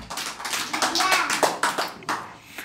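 Young schoolchildren clap their hands together in a quick burst of many sharp slaps, close and lively, with children's voices mixed in.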